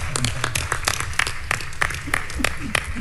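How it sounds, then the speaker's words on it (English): Audience applause at a political talk, a steady run of crisp, close handclaps with rhythmic bursts lasting the whole moment, with some voices underneath. "Y'all, we can clap for that."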